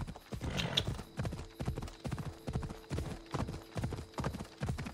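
A horse gallops in the video game Assassin's Creed Odyssey, its hooves clip-clopping in a steady, repeating rhythm at a fairly soft level, with no one talking.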